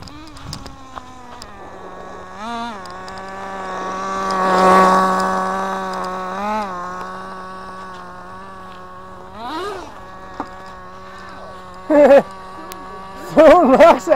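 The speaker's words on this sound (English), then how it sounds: "Hear that thing rev." A small nitro RC car engine whines and buzzes steadily, its pitch swooping up and down in several revs, chainsaw-like, with sharper bursts and a brief voice near the end.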